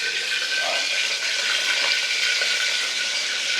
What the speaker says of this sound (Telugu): అమ్మ దీంట్లో నీళ్ళు పెడుతుంది.